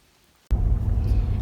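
Rain comes down suddenly at a campground near Cook Forest, a loud, dense wash of falling water that starts abruptly and continues steadily.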